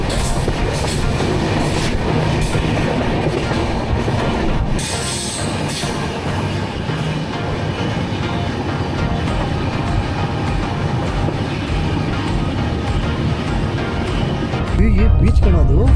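A passenger train on the line toward Varkala rolls along the rails, with loud steady rumble and clatter heard from on board throughout, rising briefly near the end with a burst of wheel and rail noise.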